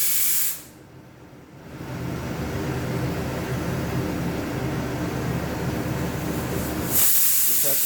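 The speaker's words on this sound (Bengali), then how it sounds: "প্রেশার কুকারে সিটি পড়ছে।" A pressure cooker boiling fish lets off its whistle: a loud, continuous rush of hissing steam that dips briefly, then builds back and holds steady for several seconds with no talk.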